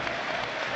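Crowd at Watford's stadium during a football match against Sunderland applauds a departing player, a short burst of steady, dense clapping heard at a distance.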